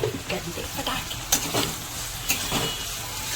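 Onions frying in a pan: a close, steady sizzle broken by a few sharp scrapes and clinks of a spoon stirring against the metal.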